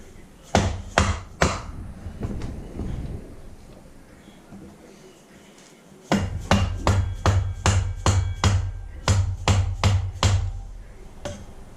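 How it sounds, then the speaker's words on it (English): Small favorite hammer striking during tire work on a KTM 625 motorcycle: a few sharp taps, then a pause and a rapid run of about a dozen close, loud metallic blows. "Get my favorite little hammer here."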